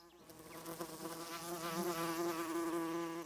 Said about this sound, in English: This is a conventional close-up of a bee gathering nectar.